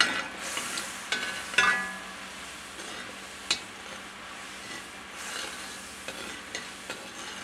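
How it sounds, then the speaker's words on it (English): Oyster sauce bubbles and reduces in a pan, a steady close hiss and sizzle with occasional sharp clicks and stirring scrapes. "Boil that for a couple of minutes until it thickens up a little bit."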